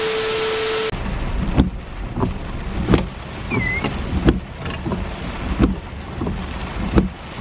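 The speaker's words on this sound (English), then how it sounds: "Rain is getting in here" Rain patters on a car roof in uneven bursts, with a wet hiss throughout and a few faint chirps partway through.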